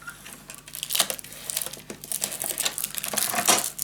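A cutter slices through paper with close, crinkly rasping and tearing sounds in uneven bursts, with no talking.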